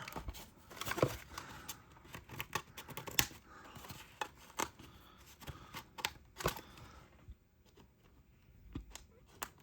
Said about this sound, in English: snip all these hair holder rubber bands